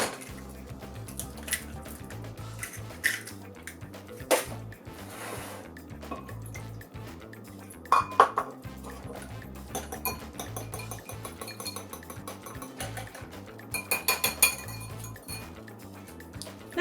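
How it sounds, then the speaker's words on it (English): Two eggs beaten together with a cup of water in a separate bowl, a steady run of quick metallic clinks and taps of whisk against dish, close and moderately loud with no talking, for okra fritters. "We're going to combine our 2 eggs"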